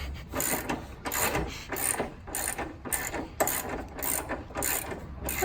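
Ratchet clicking in repeated bursts while removing the top and bottom bolts of MCA coilovers on a car, rapid close metallic ratcheting strokes with short pauses between them.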